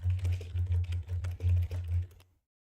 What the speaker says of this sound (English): I was typing something in